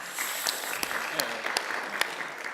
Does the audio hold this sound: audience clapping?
yes